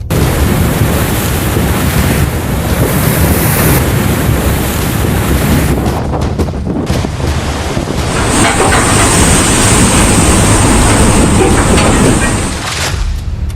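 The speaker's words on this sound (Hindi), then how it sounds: "लहरों के शोर से सहमे राज्य।" Loud, continuous roar of surf and waves crashing during a cyclone at Dhamra Port, Odisha, mixed with heavy wind buffeting, without pause.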